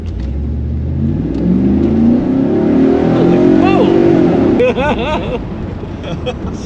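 A Pontiac Trans Am's engine, rated around 270 horsepower, revs hard while driving. Loud rising and falling engine pitch sweeps up under excited speech, with someone talking over the engine noise near the end.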